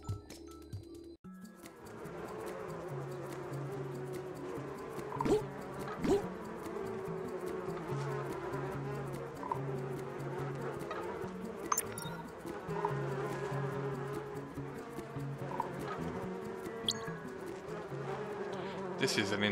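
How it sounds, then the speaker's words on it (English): Bees buzzing in the video game Donut County, a continuous droning swarm with scattered clicks and chimes from the game layered over it. "Sometimes you gotta get hunted by bees."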